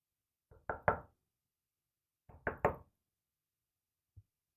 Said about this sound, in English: If I don't knock, he will.